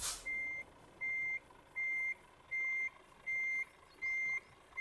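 Reversing alarm of a truck in Euro Truck Simulator 2, a steady series of six evenly spaced electronic beeps, clear and fairly loud against quiet engine background, no talking.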